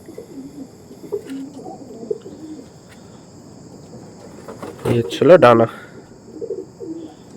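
Pure Chennai breed pigeons at a sale give soft, low cooing phrases near and far, with a steady insect trill running underneath and someone talking partway through.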